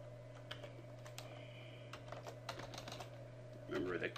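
Computer keyboard keys tapped in short, uneven bursts while a password is typed at a server login, set against a steady electrical hum, with a brief voice near the end.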